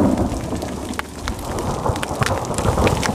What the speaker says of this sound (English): And now my rainstorm has turned into a hailstorm.